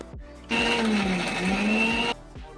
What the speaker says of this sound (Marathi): हे तुरीचे दाणे भाजून ठेवलेले होते ते आता भाजून थंड झालेले आहेत तर त्यांनासुद्धा आपल्याला मिक्सरमधून काढून घ्यायचे आहे